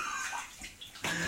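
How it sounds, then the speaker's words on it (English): Water sloshes and splashes as soaked plush stuffed animals are squeezed underwater in a filled tub, a soft swirling gurgle building to a louder wet surge near the end. "Just holding their head underwater and squeezing the water through them"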